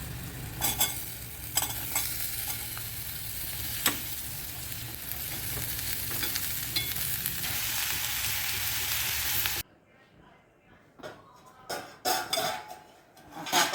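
Raw papaya pieces sautéing with turmeric and spice masala in a pan: a dense, continuous sizzle with intermittent stirring scrapes, then a sudden drop to quieter, sparse clatters and stirring sounds near the end.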